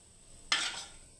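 A spoon scrapes across a pan while skimming off excess cooking oil for a papaya curry, giving one brief, close, bright scrape that fades within about half a second, with no talk.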